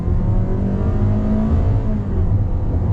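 A 2022 Toyota Corolla Cross L with a CVT accelerates on throttle over a bridge, its engine drone rising steadily and heard loudly from inside the cabin over road rumble.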